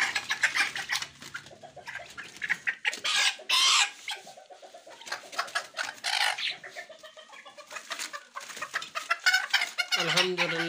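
Fancy chickens in a cage cluck and squawk repeatedly at close range, with bursts of agitated calls and fluttering, a few louder outbursts near the middle and end.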